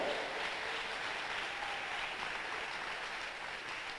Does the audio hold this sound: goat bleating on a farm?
no